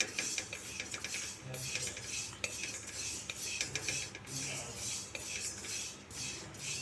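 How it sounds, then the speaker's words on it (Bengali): Sesame seeds are dry-fried lightly in a pan over a low gas flame, heard as continuous scraping and clinking of a utensil against the pan, with repeated stirring strokes at moderate, close volume. "গ্যাসের আঁচটা একেবারে লো ফ্লেমে রেখে আমি তিলটাকে ভেজে নিচ্ছি হালকা।"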